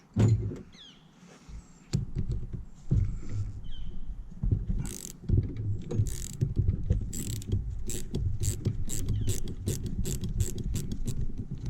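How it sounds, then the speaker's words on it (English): Metallic clicking and ratcheting of a wrench working on a 1969 VW Bug carburetor, with bursts of clanks and scraping over a low background rumble, close and fairly loud. "I might be able to break it just by using a wrench."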